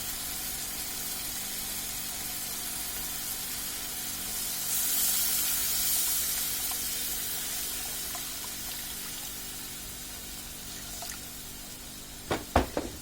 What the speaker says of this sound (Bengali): এখন আমি এর মধ্যে পরিমাণ মতন পানিটা দিয়ে দিব।